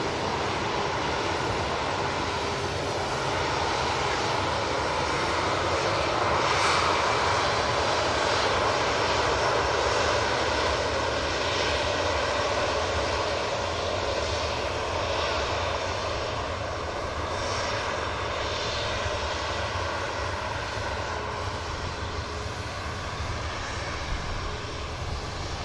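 EasyJet airliner engines roar at an airport. The jet noise holds a broad, steady rumble that stays fairly loud and even for the whole stretch, with no voices.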